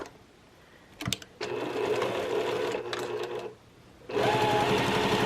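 A sewing machine runs in two long bursts while stitching quilt block seams, with a brief click or handling noise before the first run and a short pause between the bursts; the motor hum is steady and close.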